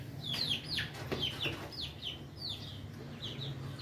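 Chickens give soft, repeated clucks and short calls at close to middle distance, faint over a steady low background hum.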